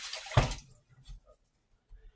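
Warm water pours briefly into a measuring cup, one short splashing burst followed by a couple of faint trickles and drips in a quiet room.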